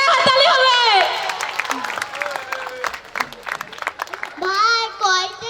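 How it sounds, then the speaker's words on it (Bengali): Loud applause and crowd noise at a school annual results ceremony, with children's voices and someone speaking over the clapping. "জোরে হাততালি হবে।"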